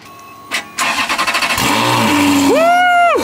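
A Ferrari 430 Scuderia, fitted with its first modification, cranks in a quick burst of pulses, catches with a loud flare and rises into a bright, high-pitched rev before holding a raised idle close by.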